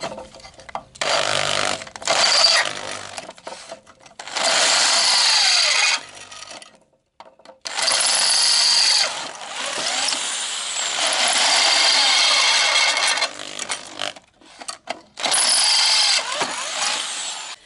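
Close and loud, a power drill cuts 9.5 mm holes in a steel reinforcement on a Citroën Traction 11B, in several sustained whining runs with brief gaps where the bit stops and restarts.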